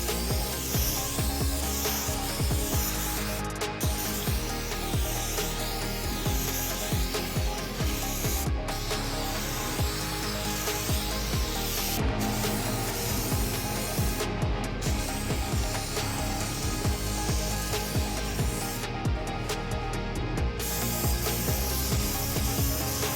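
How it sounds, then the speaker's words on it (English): Epoxy mold release from MG Chemicals sprays evenly into molds with a steady, broad hiss that runs almost continuously, broken by a few brief pauses. "When using the mold release, you want to spray it evenly inside the molds"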